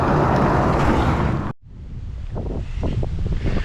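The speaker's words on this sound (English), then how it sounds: "So it's a little breezy, and I hope it doesn't affect the audio" Breezy wind on an outdoor hiking trail along the Rideau Trail roars loudly against the microphone, drops out abruptly for a moment, then returns as gusty rumbling buffets.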